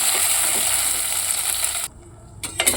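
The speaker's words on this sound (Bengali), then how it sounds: "ভালো করে ভাজা ভাজা করবো" Ground radhuni spice paste sizzles in hot oil in a pan, a dense close hiss that breaks off sharply just before two seconds, then returns faintly.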